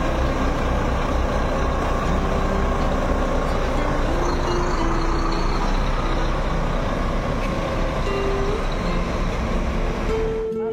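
A Volvo B11R bus rumbles loudly at close range as it maneuvers with its rear wheels swinging out, a heavy steady diesel drone with shifting engine tones and a voice talking over it.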